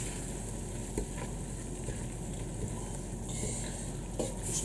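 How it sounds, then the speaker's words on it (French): Chopped tomato gets stirred into a courgette stuffing in a hot pan, a steady frying sizzle underneath soft scraping of the spoon and a few light knocks against the pan. "je vais mélanger tout ça"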